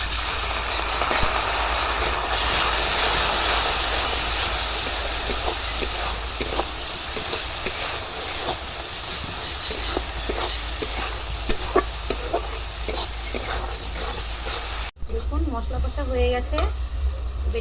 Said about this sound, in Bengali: মশলাটা যাতে তলায় না লাগে সেই জন্য আমি একটু অল্প জল দিয়ে দিচ্ছি